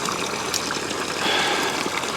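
Water gushing steadily as it drains out of a fishing boat on the Cowlitz River. The rushing flow is loud, close and continuous, with no voices.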